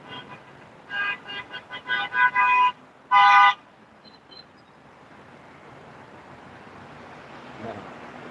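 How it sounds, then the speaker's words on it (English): A moped's horn honks in a short series of bursts, then one longer blast, loud and fairly close amid outdoor street noise at a protest. "Even the moped was honking."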